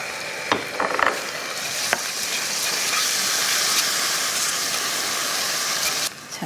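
Meat stir-frying for potato japchae, spread out in a well-preheated pan, giving a loud, steady sizzle that runs unbroken for several seconds, with a few soft scrapes near the start.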